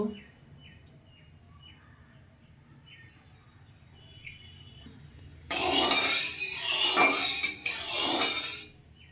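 A metal karai on a gas stove for frying rui fish gives faint clinks at first, then a louder burst of metallic clattering, scraping and rushing noise.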